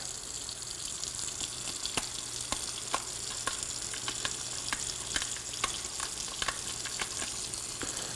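A seafood tail, cut along its back, is rinsed under a running tap, giving a steady hiss of flowing water with small irregular splashes and clicks throughout, moderately close.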